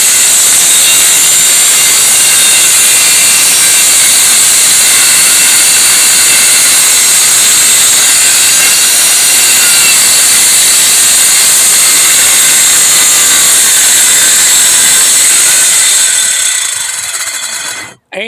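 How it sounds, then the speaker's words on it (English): A Skilsaw 13 amp circular saw with a 7 1/4 inch blade cutting through 3/4 inch plywood and roofing shingles, a loud sustained whine and grinding roar close by, ending as the motor cuts off and winds down. "We're cutting through 3/4 plywood and shingles"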